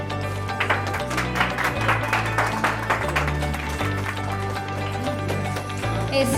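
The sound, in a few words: applause for the lamp lighting guest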